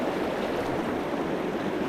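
Swift-moving flood water rushes in a stream as a dense, continuous broadband roar, steady and close with no change in level and no voices.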